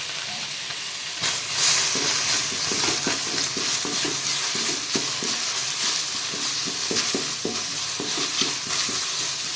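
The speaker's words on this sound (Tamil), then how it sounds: "தக்காளி சேர்த்து நல்லா வணக்கி விடுங்க." Tomatoes sautéing with browned onions in a pan give a loud, steady sizzle, broken by repeated scraping stirs of a spoon at close range, with no talking.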